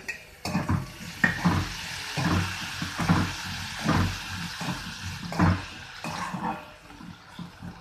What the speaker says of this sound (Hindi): इसको हिला देंगे अच्छे से। और ये टमाटर भी हम इसमें डाल देते हैं।